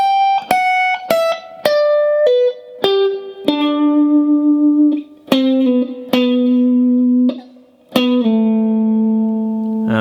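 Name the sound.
electric guitar playing solo slides with vibrato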